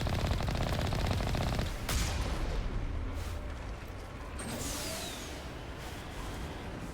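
Rapid gunfire and blasts in Mass Effect Legendary Edition, a dense burst of shots at the start followed by rumbling explosions and scattered fire, loud and close.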